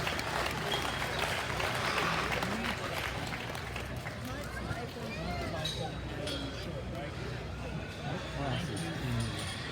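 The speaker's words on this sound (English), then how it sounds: "Let's give these kids a round of applause." A crowd claps steadily in a roomy livestock show arena after a youth swine showmanship class, the applause fairly quiet and mixed with scattered murmuring voices throughout.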